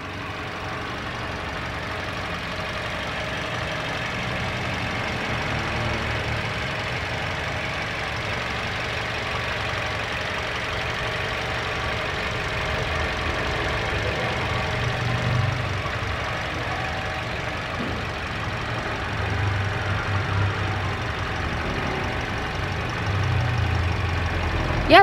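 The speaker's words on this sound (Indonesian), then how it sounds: "Untuk kondisi mesin di sini kita dengarkan dulu dari suara mesinnya, kurang lebih 20 detik ya dari sekarang." Toyota Avanza 1.3 G automatic from 2018 idling, a steady, loud, close mechanical rumble with an even ticking texture, continuous for the whole stretch with no talk.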